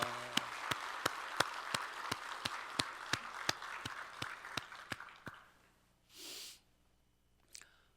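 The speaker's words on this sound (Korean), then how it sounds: "우리 찬양 받으신 주님께 영광의 박수" Rhythmic clapping in a Sunday church service, a steady series of sharp, evenly spaced claps in unison, then stopping, followed by a brief breathy noise and a faint sound near the end.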